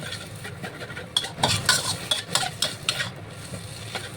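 Noodles stir-fried in a pan, with repeated sharp scraping and clinking of a utensil against the metal over a crackling sizzle, the strokes coming in uneven bursts, close by and without speech.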